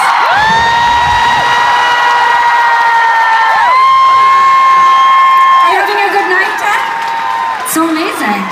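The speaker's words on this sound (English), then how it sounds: "So would you please give a huge round of applause." Concert crowd cheering and whooping at the Fox Theatre in Oakland during band introductions, loud and continuous, with sustained held tones and shouts running through the whole stretch.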